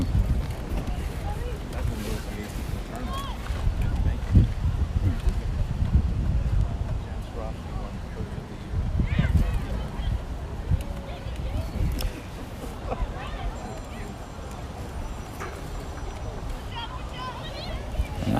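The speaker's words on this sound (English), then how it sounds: "Windy one down here in Davie." Wind gusts buffet the microphone outdoors at a youth soccer match in Davie, Florida. Low rumbling blasts rise and fall throughout, and faint voices sit beneath the noise.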